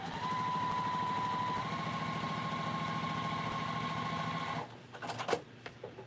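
A sewing machine runs steadily as it stitches fabric for a case project, a close, even mechanical whir for several seconds before stopping and giving way to a few handling clicks.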